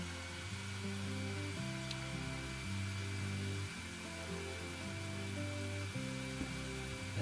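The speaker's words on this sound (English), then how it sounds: "Let's vacuum this glass up." Vacuum cleaner sucking up broken glass in the House Flipper 2 video game, a continuous whirring hum with short stops and restarts, heard alone.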